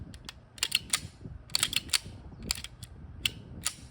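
A Rock Island Armory 1911-A2 high-capacity pistol is handled close up, giving a series of sharp metallic clicks and clacks of the slide and magazine, irregular and crisp, with no talking.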